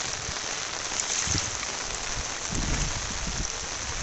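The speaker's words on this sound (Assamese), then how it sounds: "চাওক না কেনেকুৱা বৰষুণ" Heavy rain pouring down outdoors by a field, a loud, steady hiss of drops with low rumbling gusts, unbroken throughout.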